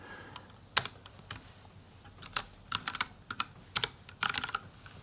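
Fingers tap on a computer keyboard in irregular bursts of crisp, close clicks, quiet overall with short pauses between clusters of keystrokes.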